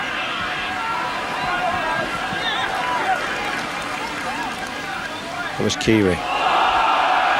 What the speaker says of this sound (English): Crowd shouting for a forward pass